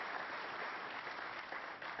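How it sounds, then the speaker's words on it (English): Polite applause from a snooker crowd after a pot at a World Snooker Championship quarterfinal, a brief, quiet, even patter of clapping heard from a distance. "A round of applause there."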